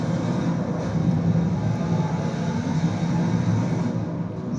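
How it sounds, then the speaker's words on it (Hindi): Russian fighter jets flying in formation over a Victory Day parade give a loud, continuous low roar of engine noise that holds steady throughout. "आसमान में रूस के फाइटर जेट्स शानदार फॉर्मेशन बना रहे हैं।"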